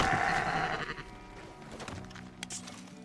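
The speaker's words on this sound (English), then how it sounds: "For example, the merino sheep." A merino sheep in Red Dead Redemption 2 bleats repeatedly in wavering cries over a soft background, with a few quieter bleats trailing off toward the end.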